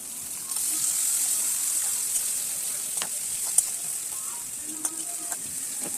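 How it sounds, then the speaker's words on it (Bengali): Onions frying in hot oil with cumin and whole spices for a Bengali fish-head lentil dish, a continuous bright hiss of sizzling close by, with occasional faint clinks and stirring sounds, no speech. "তার মধ্যে আমি পেঁয়াজগুলো দিয়ে দেবো পেঁয়াজগুলো দিয়ে পেঁয়াজগুলোও ভালো করে ভেজে নেব"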